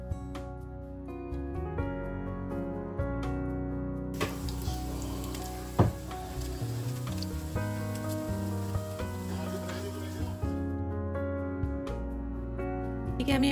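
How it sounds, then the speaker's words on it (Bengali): Paneer balls fry lightly in a small amount of oil, giving a steady crackling sizzle through the middle of the clip beneath continuous background music. "পনিরের জন্য আমি সামান্য তেল নিয়ে ওই যে পনিরের বলগুলো যেগুলো বানিয়েছিলাম সেগুলো ভেজে নেব"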